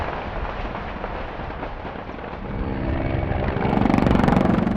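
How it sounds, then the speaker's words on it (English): Dense, rumbling volleys of small arms fire at Donetsk airport during the Donbass war blend into a continuous roar, with a helicopter-like drone swelling toward the end. "who responded with a storm of small arms fire"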